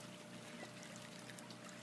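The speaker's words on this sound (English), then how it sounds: "This is just regular tap water" Plain tap water poured into a plant-growing container, a steady, fairly faint trickling pour that runs without a break.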